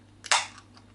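A beer bottle cap pops off once with a short, sharp hiss-crack, close and fairly loud against a quiet room with a faint steady hum.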